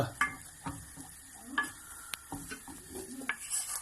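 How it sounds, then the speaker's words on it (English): A spoon stirs flour into melted butter in a pan for a cheese sauce, giving soft intermittent scrapes and light taps against the pan with faint sizzling between, quiet and close. "into the butter, and this is where you keep stirring"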